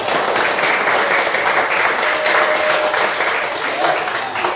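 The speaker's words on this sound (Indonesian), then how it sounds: "Oke, tepuk tangan untuk Jeremy." A classroom of students applauds a classmate during a computing and AI lesson, a steady dense wash of clapping that holds at even strength throughout with some voices mixed in.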